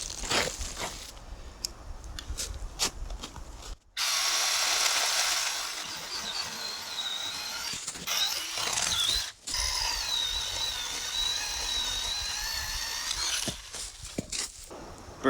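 Steady rasping of a handsaw cutting through wood at a winter campsite, continuous strokes with a few brief pauses, close by and fairly loud.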